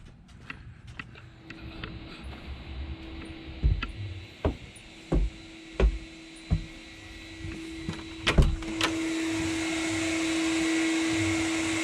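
A vacuum cleaner hums steadily, rising to a louder whine near the end, with a series of sharp knocks and clatters scattered over it.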